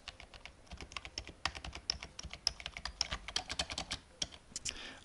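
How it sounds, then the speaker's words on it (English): A computer keyboard sold as silent still gives off a steady run of quick, fairly quiet key clicks and taps over several seconds, close to the microphone. "So a silent, supposedly silent keyboard sounds like this."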